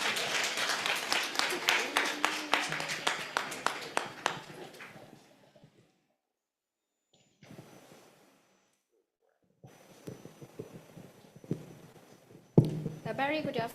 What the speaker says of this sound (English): so just clap again.